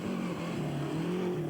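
A rally car on a narrow road during the 1993 Cyprus Rally, its engine droning steadily and rising slightly in pitch as it approaches, a moderately loud continuous tone with no voices.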